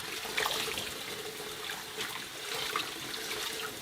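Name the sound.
rinsing perilla leaf shoots in cold water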